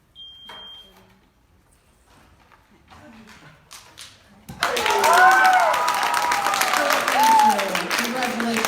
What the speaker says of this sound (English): And hit the buzzer